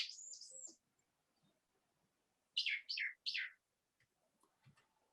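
A melodic songbird, often mistaken for a nightingale, sings a clear whistled phrase and then three quick repeated notes, fairly close, with quiet gaps between.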